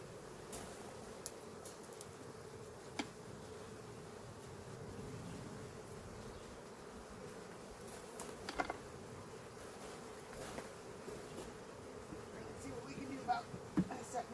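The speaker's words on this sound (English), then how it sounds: "now we've got some happy bees" Honey bees hum continuously during a honey harvest, a dense busy drone with scattered crackles and light rustling on top.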